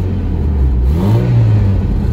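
A GMC Sonoma pickup truck with its check engine light on runs close by and loud, its engine idling and then revving up once and easing back down, with no talk over it.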